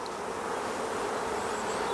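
Honey bees buzz densely and steadily at a hive frame from a small nuc colony, a loud, close, continuous drone with no talk.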